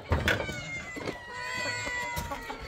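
Several cats on a rural farm in Minas Gerais meow and caterwaul, overlapping high wavering calls in quick succession, fairly close and clear with a few faint background knocks.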